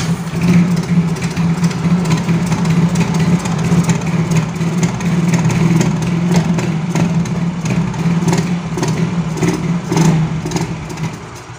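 A Yamaha Mio Soul GT scooter engine with a fault that makes it stall when given throttle runs loudly nearby at a rough idle, with uneven revving surges and sputters throughout.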